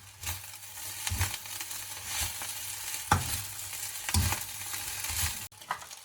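Sri Lankan chicken fried rice sizzles and fries in a pan while a utensil scrapes and stirs it in uneven strokes, close and continuous, with no voices.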